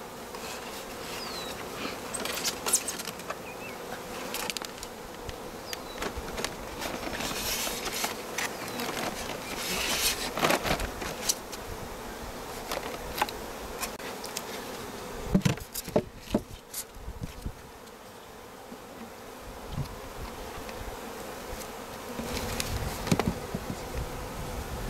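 A dense swarm of honeybees drones continuously around a beekeeper working the hive, loud and close, with scattered clicks and knocks from handling the frames.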